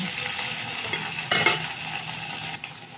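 Onion, ginger and garlic paste frying in hot oil with black cumin in a pan, giving a close, steady sizzle broken by a brief louder burst of stirring midway.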